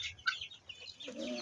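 Chickens kept at a rural village home, with soft clucks and brief calls scattered across the moment, fairly close, followed by a steadier mid-pitched burst of clucking at the end.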